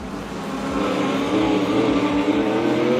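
Limited sedans race around Carina Speedway dirt oval, engines roaring and revving as cars pass close by in a rising, loud continuous drone.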